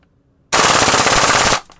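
An airsoft gun, an R5C-style rifle, fires one loud, close full-auto burst of about a second, a rapid dense rattle of shots that stops abruptly.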